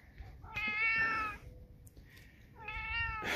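A domestic cat meows twice, each call a long, drawn-out cry close to the listener, separated by a short pause with faint background noise.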